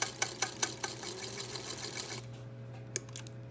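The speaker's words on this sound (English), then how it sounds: "I like to leave the needle in the fabric when I'm trying to do a nice sharp corner like these" A sewing machine stitches a fabric face mask, running in a steady close whir with rhythmic needle clicks for about two seconds, then stopping with a single later click as the needle is left in the fabric.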